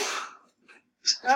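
A single sneeze bursts out near the start and fades over half a second, followed by brief breathy sounds and a short spoken exclamation.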